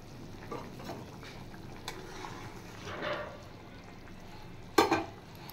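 Fried eggs are added to a thick egg curry in a pan, giving a soft, low simmering sizzle with faint stirring, then one sharp, loud clack of metal near the end.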